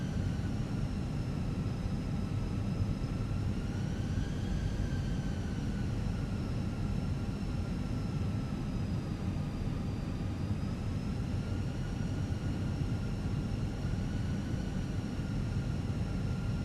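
Steady, loud drone of an Airbus A320's engines in a flight simulator game near Houston airport, a continuous hum with faint wavering high tones running throughout, no voices.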